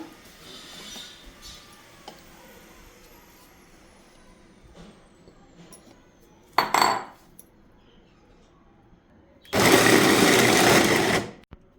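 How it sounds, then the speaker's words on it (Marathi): A handheld electric blender grinds pitted dates for sugar-free dry-fruit ladoos, with a short motor burst followed later by a longer, louder whirring run of about two seconds, set against quiet kitchen clatter. "आता आपण जे खजूर बिया काढलेले घेतले होते ना, ते या हँड मिक्सीमध्ये बारीक करणार आहोत."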